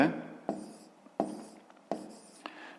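A pen writes by hand on paper during a fifth-grade maths exercise, four short scratchy bursts of strokes at a steady pace, close and fairly quiet.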